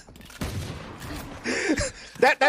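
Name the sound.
gunfire spray in Valorant video game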